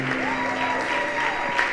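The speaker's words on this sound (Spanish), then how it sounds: "Dale un aplauso al Rey de Reyes" Church congregation clapping during a Sunday service, continuous applause mixed with a sustained tone, likely from an instrument.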